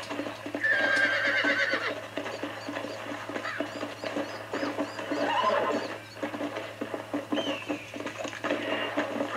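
Hooves clip-clop at a gallop while a horse whinnies loudly several times in Red Dead Redemption, with no talking.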